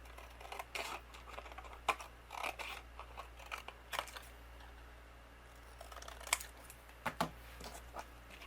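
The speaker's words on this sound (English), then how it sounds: "I'm just going to use my scissors, and I'm going to trim a background for this." Scissors trimming a cardstock background panel for a stamped ombre flower card, a series of quiet, irregular snips and crisp cuts against a low steady hum, with no voices.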